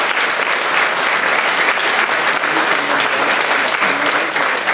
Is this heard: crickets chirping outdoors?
no